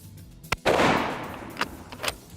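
Several gunshots from a Mossberg MVP LR rifle: a sharp crack at the start, then a loud booming report with a lingering rumble, followed by two fainter distant reports.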